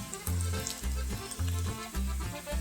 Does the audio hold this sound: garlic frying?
yes